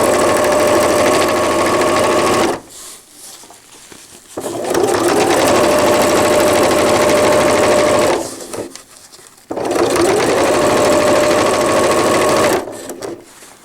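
A sewing machine straight-stitches a cloth diaper cover with gussets, running in long loud steady bursts with a buzzing motor hum. Two brief pauses break the stitching before it starts again.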